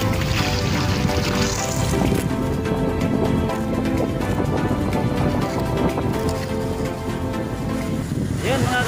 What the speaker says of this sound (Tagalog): Grabe ang alon mga kapising, ang laki ng alon, ang tataas ang mga alon.